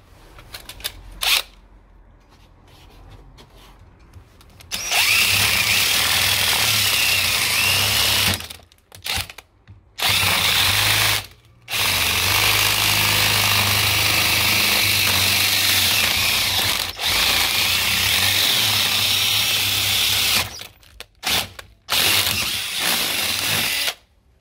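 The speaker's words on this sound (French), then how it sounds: "Il faut percer ce para-attaque ici," A power drill bores through the anti-drill plate of a Vachette Trilock 5000 lock, giving long loud, steady grinding runs broken by short pauses, heard close up.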